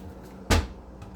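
A kitchen cabinet door in a hotel suite at Homewood Suites in Rock Springs, Wyoming, opens or shuts with a single soft thud over low room noise.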